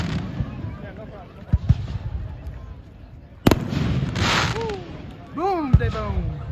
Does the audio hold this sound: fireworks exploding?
yes